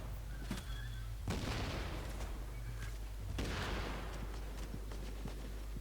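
A mortar in The Division video game lobs grenades, producing a couple of heavy, booming blasts with rolling decay over a constant low rumble, plus scattered smaller thuds and pops in between.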